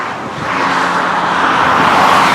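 A tow truck arriving on a UK motorway where a car broke down with a broken coolant clip, its engine and tyre roar swelling steadily louder as it approaches close by, with no talk.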